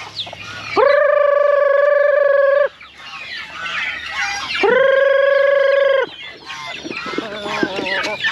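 A hen gives two long, loud, drawn-out calls, with softer clucking and chirping from chicks in between.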